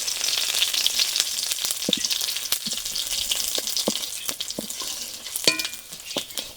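Slit green chillies, two bay leaves and panch phoron spitting in hot mustard oil, a fairly quiet crackling sizzle with scattered sharp pops and small clicks.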